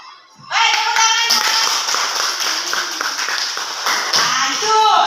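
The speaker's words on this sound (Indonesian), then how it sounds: "Baik, tepuk tangan." A school class of children claps hands together in a classroom, a dense, steady burst of many overlapping claps lasting several seconds, with a few children's voices mixed in.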